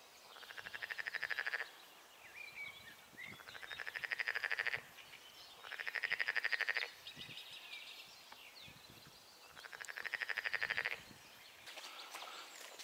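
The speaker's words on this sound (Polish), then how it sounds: "Żabki gruchają," Frogs croak near a river in four loud, rhythmic bursts of rapid rattling calls, each a couple of seconds long, separated by quieter gaps with fainter chirps.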